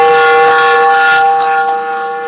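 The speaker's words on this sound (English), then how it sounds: "That's the sound of the train." A loud passing train's horn blares with steady sustained tones, holding for about two seconds before tapering slightly, with no voices.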